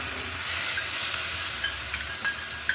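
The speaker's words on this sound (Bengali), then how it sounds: "হলুদে গুঁড়ো জিরে গুঁড়ো ধনে গুঁড়ো কাশ্মীর লঙ্কা গুঁড়ো জলে গুলে রেখেছিলাম সেটাই দিয়ে দিচ্ছি" A water-mixed paste of turmeric, cumin, coriander and Kashmiri chili powder hits a hot pan, giving a loud, steady sizzle and hiss with a few sharp spattering pops toward the end.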